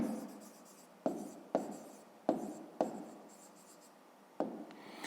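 Pen on paper during a fifth-grade math exercise, steady scratchy strokes near and quiet, broken by several sharp taps as new strokes begin, with no talk.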